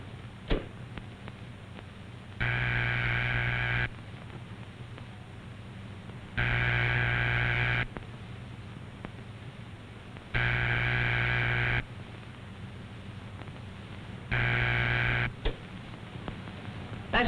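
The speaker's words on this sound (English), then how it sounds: "That's the ringing signal. It tells you that the telephone at the number you called is ringing." A telephone ringing signal heard by the caller, from an old educational film: four evenly spaced buzzing tones, each about a second and a half long, separated by gaps with a faint projector hum and occasional clicks.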